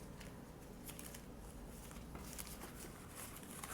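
Steady riffling and soft papery patter of cards being shuffled close by, continuous for a few seconds with no voices.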